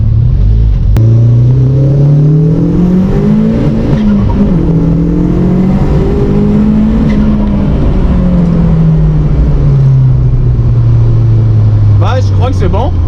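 A Volkswagen Golf with a turbo drives along a twisty road, its engine droning steadily and rising and falling through the bends, with people talking inside the car over it.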